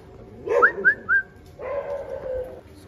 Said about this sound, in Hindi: ये तो अपनी गली के कुत्ते हैं,